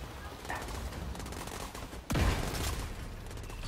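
Gunfire during a raid in the video game The Division 2, a steady broadband barrage of shots that jumps louder and heavier about halfway through and keeps going to the end.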